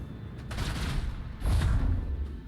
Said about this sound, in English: Fire the forward macro cannons.